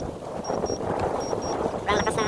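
Strong wind buffets the microphone during a DJI Mini 3 drone flight, a continuous rough rumble throughout, with a thin whining tone and a person talking over it.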